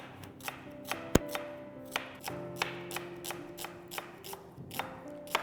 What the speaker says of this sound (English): this is how you need to slice the onion, in a half moon shape